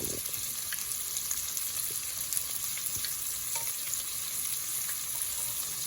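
Cube steak pieces sizzle and fry steadily in a hot pan while caramelizing, a continuous close crackling hiss with occasional small pops and stirring, no talking.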